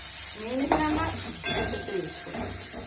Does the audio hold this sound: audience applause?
no